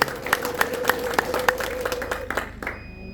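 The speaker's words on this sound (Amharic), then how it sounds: "አጨብጭቡ።" A church congregation claps in a quick, evenly spaced rhythm, the hand claps sounding sharp and fairly close before tapering off near the end.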